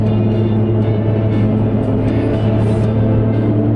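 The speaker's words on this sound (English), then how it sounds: "I do have tire road noise, but I mean typical truck noise." A constant low rumble of tires rolling on pavement inside a moving truck, steady and droning with engine hum underneath.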